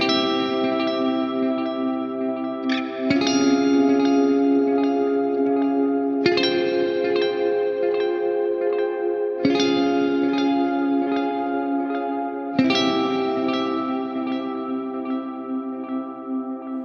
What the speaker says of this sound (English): I moved the delay over to the front of the amp instead of in between the amp and the cabs